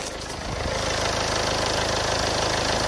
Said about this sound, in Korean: 지금 바로 카니발 차량의 엔진 소리 한번 자세하게 들려드릴게요.